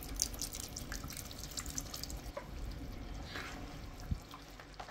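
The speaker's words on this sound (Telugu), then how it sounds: "ఇందులోనే 100 ml వాటర్ కూడా యాడ్ చేసుకోండి" About 100 ml of water goes into a pot of goat mutton paya curry. The result is a soft, close pour and trickle that stays quiet, with no talk and a small clink near the end.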